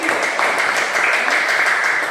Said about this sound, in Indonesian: tepuk tangan untuk Nindi